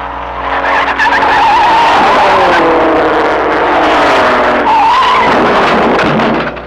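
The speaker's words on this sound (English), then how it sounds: "Twice running, Wilbur Shaw has won on his Italian Maserati, and he's heading for a third win when a wheel goes." Race cars roar around the banked oval at the Indianapolis 500, including Wilbur Shaw's Italian Maserati, with loud sustained engine drone and tyre skidding as a wheel comes off, continuous and close throughout.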